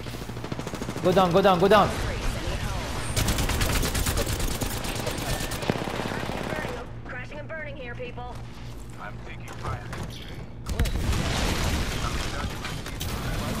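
Apex Legends gunfire comes in rapid automatic bursts, mixed with clicking weapon mechanisms and game effects. Players talk over the shooting.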